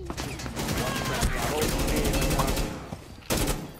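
A defense turret in a shooter game rattles off rapid automatic fire for a few seconds, dense and close, with voices talking over the shooting.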